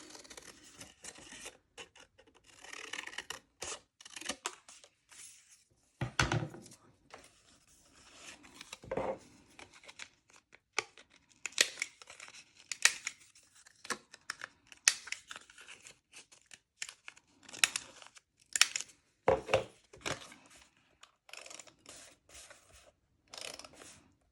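Scissors cut paper for a reading journal up close, giving irregular snips and crisp rustling bursts with brief pauses between them.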